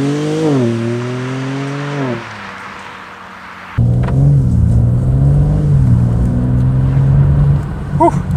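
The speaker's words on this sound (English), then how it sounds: "now let's see how the 2022 BMW M3 Competition Xdrive drives and behaves on the road" A 2022 BMW M3 Competition xDrive in Sport Plus accelerates on the road, its engine note rising through gears with pitch sweeps and shifts, then a deeper loud rumble heard from inside the car.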